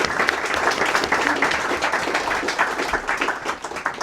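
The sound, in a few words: audience applause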